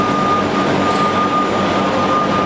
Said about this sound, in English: Thermo King engine, and basically this would sit inside the reefer unit, and this would run and power the refrigerant and the condenser coils.